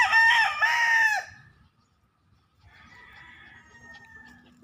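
A young backyard gamecock stag lets out one loud, close crow with a drawn-out harmonic call, followed by quieter distant crowing from other fowl after a brief pause.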